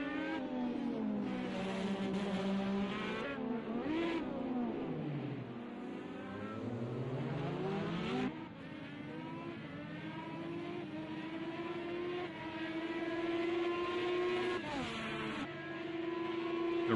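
IndyCar race cars at Long Beach in a racing video game, including a blue number 10 Chevy, roar and rev through the gears, pitch climbing and dropping as engines pass and overlap, steady and moderately loud throughout.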